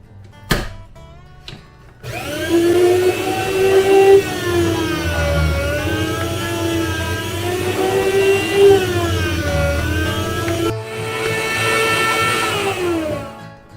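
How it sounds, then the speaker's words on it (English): An electric slicer cuts meat for jerky, a loud motorized whir that starts after a couple of sharp clicks and holds steady for about nine seconds, its pitch wavering slightly under load before cutting off. "Alright, that's got the meat sliced up."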